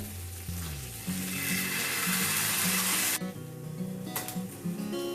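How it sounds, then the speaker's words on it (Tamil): Seer fish (vanjaram) sizzles and fries loudly on a tawa in groundnut oil, a dense crackling hiss with a brief stir or turn partway through, under low-pitched background hum and no speech. "நான் கடலெண்ணெய் போட்டு மீன் வறுத்துருக்கேங்க"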